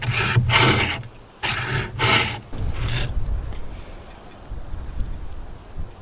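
A bushcraft survival knife is drawn through a coarse grind sharpener, giving four loud raspy scraping strokes in the first three seconds, then a quieter fade with faint handling.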